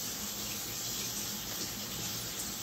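Tap water runs steadily into a sink as Kurobuta pork is rinsed, a constant close gushing hiss with no pauses and no talking.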